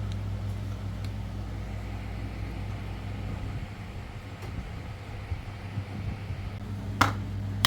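A mixer grinder runs steadily as it grinds fried dried chillies for a salted mango and curd chutney, a constant low motor hum lasting several seconds. A few faint clicks come near the end, and no one speaks.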